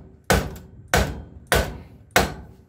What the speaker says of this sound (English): sometimes you just gotta knock it through with a punch